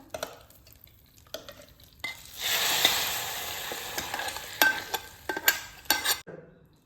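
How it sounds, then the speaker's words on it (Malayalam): Tempering of spices and coriander leaves frying for Onam sambar, a sudden loud sizzle bursting in after a quiet start, then crackling and spattering with spoon clinks before fading out. "അപ്പോൾ നമ്മൾ വറവിടാണ്"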